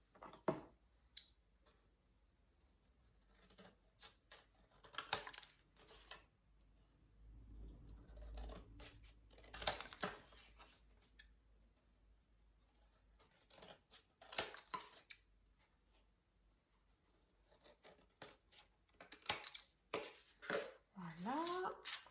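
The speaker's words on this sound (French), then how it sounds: "j'ai marqué ici aux 4 coins mes traits et je viens donc les couper" Scissors snipping the marked corners of a scrapbook album cover, with quiet, intermittent crisp cuts and rustling; a person speaks at times between the snips.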